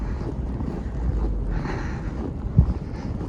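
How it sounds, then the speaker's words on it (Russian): Strong wind gusting through a snowstorm in Moscow, a steady broadband rush with rising and falling surges and microphone buffeting, plus a brief thump near the end. "Немножко забор закрывает ветер."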